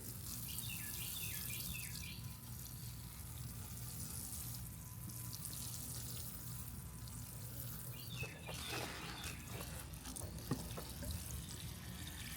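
Water poured onto a newly planted container garden plant with lavender and hibiscus nearby, a soft steady trickle and splash under a low outdoor hum, with faint birdsong chirping in the background.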